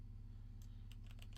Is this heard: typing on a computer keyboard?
yes